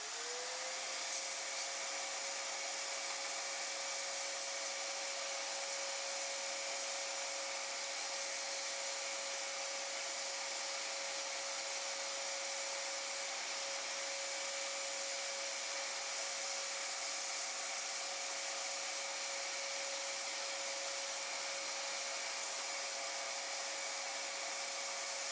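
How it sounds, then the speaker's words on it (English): A vacuum cleaner pulls lint from the bobbin area of a 1964 Singer 600 Touch N Sew sewing machine, a constant loud whining hiss with a steady high tone, running close and unbroken throughout with no talking. "now I will follow up with a vacuum to make sure none of these little bits of lint make it back into the machine"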